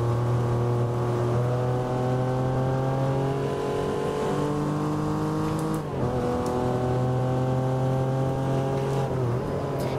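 A race car engine in the Assetto Corsa driving game drones loudly and steadily, pitch climbing through the gears with brief dips at shifts around six and nine seconds, with no voices.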